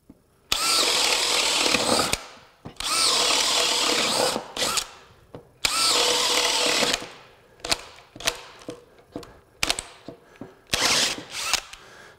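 A DeWalt DCD999 20V cordless drill fitted with a DeWalt 20V 5.0 Ah FlexVolt Advantage battery bores into wood in three long, loud whirring bursts, followed by a string of short, stuttering trigger pulses.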